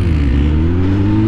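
Engine of a Honda Hornet four-cylinder motorcycle with its original exhaust, a steady, fairly loud low rumble with layered harmonics, held without noticeable revving swings.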